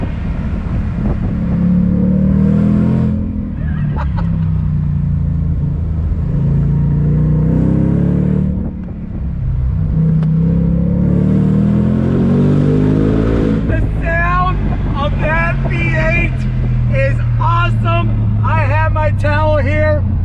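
Supercharged engine of a 2021 Shelby GT Speedster convertible pulls on throttle with a rising droning whine and heavy wind rush, loud and continuous, while someone talks over it throughout.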